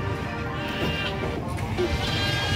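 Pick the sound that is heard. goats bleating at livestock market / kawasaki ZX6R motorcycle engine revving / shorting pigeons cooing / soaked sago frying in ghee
goats bleating at livestock market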